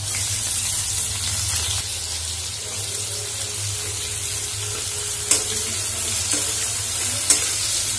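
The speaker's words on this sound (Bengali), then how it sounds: "পেঁয়াজ ভালো করে ভাজা হবে" Onions frying in oil for a home-cooked chicken curry, a steady close sizzle with stirring throughout, marked by a few sharp utensil clicks and taps against the pan.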